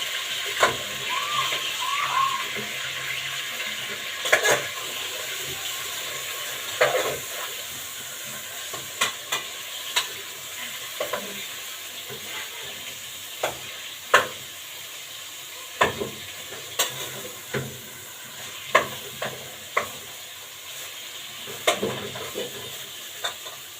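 Alexandrian-style liver frying in a pan and turned with a large spoon: a steady low sizzle and hiss with scattered scraping knocks of the spoon, close by, with faint voices now and then.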